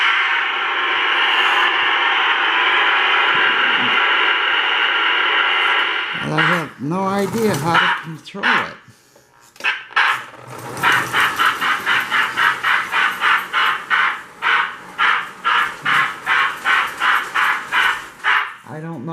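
The tender of a restored Lionel postwar #746 J Class toy train gives off electronic rail sound effects: a steady hiss first, then a brief stretch of talk, followed by a fast run of rhythmic chuffing bursts.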